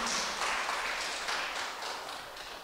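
Applause from a graduation ceremony audience, a broad, dense clapping wash that stays steady and fairly loud across the whole stretch, with no talk over it.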